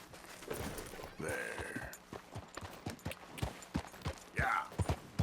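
Horse hooves clip-clopping at a walk in Red Dead Redemption 2, an irregular series of close, distinct knocks with brief tonal sounds between them.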